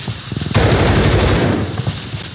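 Call of Duty gunfire: a loud, close burst of rapid automatic shots rattles on for about two seconds after a brief quieter lead-in.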